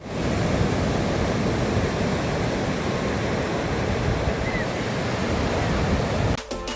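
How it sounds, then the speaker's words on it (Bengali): Sea waves breaking at Sugandha Point beach in Cox's Bazar, a continuous loud roar of surf with wind noise on the microphone, unbroken and close throughout until a brief disturbance at the very end. "আমি এখন সমুদ্রের ঢেউয়ের শব্দ আপনাদেরকে শোনাবো"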